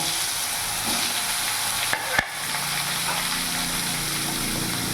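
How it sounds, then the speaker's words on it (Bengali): Eggplant pieces frying in hot oil for a Bengali shukto, a steady close sizzle throughout with a couple of brief clinks from stirring near the middle. "তেলের মধ্যে বেগুনগুলো ভেজে নেব।"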